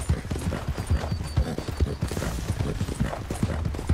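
Rhythmic hoofbeats of a horse galloping in Red Dead Redemption 2, a steady clip-clop pounding close and loud throughout, with no talk over it.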